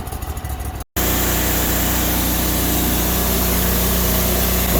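The engine of a Sears Suburban loader runs off choke with a steady, rough idle drone, close by, after a brief dropout near the start.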